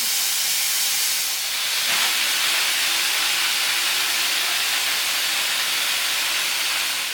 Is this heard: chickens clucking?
no